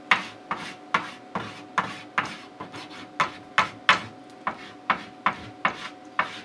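Base binder grip wax is rubbed onto the grip zone of cross-country skis in about fourteen steady scraping strokes. Each stroke is a short, close, rasping rub, evenly spaced and repeated alone.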